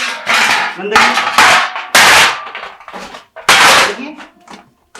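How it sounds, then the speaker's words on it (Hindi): Dirty metal utensils in an anganwadi kitchen picked up and handled, with loud, close clanks and clattering knocks in irregular bursts while someone talks over them. "देखिए हर एक बर्तन उठा के देखिए"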